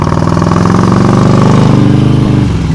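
A motorcycle engine chugging loudly and close at low revs during slow-speed clutch control riding practice, a steady throbbing idle-like rumble that rises slightly before easing off.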